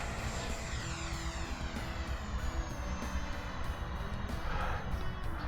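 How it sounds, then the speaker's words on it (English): An Eflite Viper 64mm EDF RC jet takes off, its electric ducted fan giving a loud, steady high-pitched whine and rush that sweeps downward in pitch as the jet passes and moves away. "Uneventful takeoff with the Viper"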